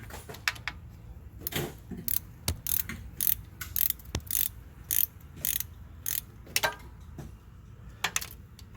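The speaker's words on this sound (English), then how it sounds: "after you break it loose, you can use a 14mm socket wrench" A 14mm socket wrench loosens the starter bolt on a 2003-2008 Infiniti G35, giving a series of short, close, irregular ratcheting clicks and metallic clacks with brief pauses between bursts.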